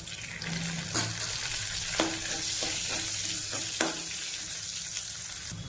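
Curry leaves spit and crackle in hot tempering oil with mustard seeds, cumin, onion and dried chillies, a continuous sizzle broken by several sharp stirring clicks against the pan.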